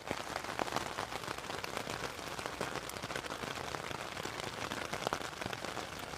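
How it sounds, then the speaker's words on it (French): Steady rain patters on a tent in the Alps, dense crackly drops with occasional sharper taps, fairly quiet and continuous. "Il pleut."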